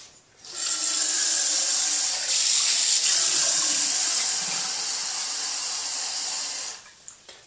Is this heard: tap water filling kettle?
yes